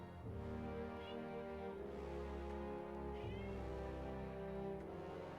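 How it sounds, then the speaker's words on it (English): A cat meows repeatedly in the background, with several drawn-out, wavering cries over a steady hum, faint and somewhat distant. "do you hear this meowing bullshit behind me?"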